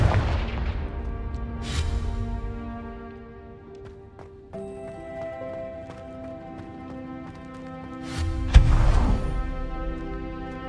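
Confringo explosive spell blasts in the video game Hogwarts Legacy burst out sharply near the start, again just before two seconds, and once more loudly near the end, over a sustained musical score.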